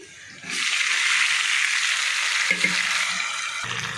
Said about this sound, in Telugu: ఇప్పుడైతే దొండకాయ ముక్క ఉల్లిపాయలు కూడా ఏగిపోయినాయి